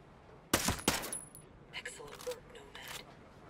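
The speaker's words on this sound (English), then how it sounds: "Shooting." Gunfire in the tactical shooter Ghost Recon Breakpoint: two sharp close shots, then fainter scattered shots and clinks further off.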